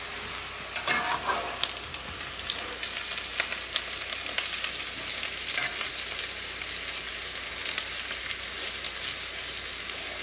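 Dinner frying in a pan in an off-grid cabin in Alaska, with a constant close sizzle and occasional scrapes and clinks of stirring, no voices.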